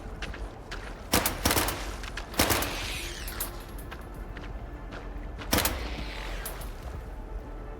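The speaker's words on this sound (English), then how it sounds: "Warning shots." Warning gunshots in Stalker 2 crack out as a handful of sharp, separate reports spaced a second or more apart, each trailing a short echo over quiet ambient background.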